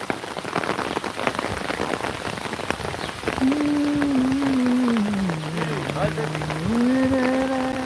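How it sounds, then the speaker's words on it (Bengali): Steady rain patters across the whole stretch in a riverside village with a boat nearby, joined midway by a wavering tonal drone that rises and falls over the downpour. "আরে বৃষ্টি হচ্ছে"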